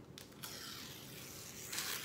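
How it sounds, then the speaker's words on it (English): Wax paper is peeled off a slab of candy corn fudge, making a quiet, continuous crackling tear with a couple of brighter ripping bursts, close up and without talk. "to peel off your wax paper."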